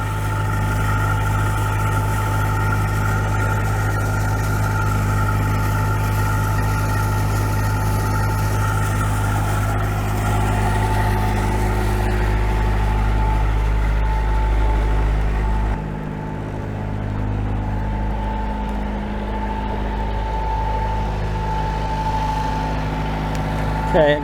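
A Perkins 4.108 marine diesel engine idles aboard a boat with a steady, low rumble and throbbing vibration, shifting to a lighter, slightly different tone about two-thirds of the way through.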